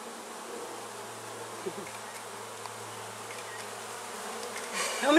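Bees buzz close by as they crawl and fly around on a surface, a thin continuous hum with occasional louder passes.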